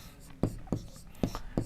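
Chalk or pen strokes mark a surface during a Hindi-language Class 7 maths lesson on triangle congruence, four short, distinct scratches spaced unevenly, close and fairly clear, with a faint voice in the background.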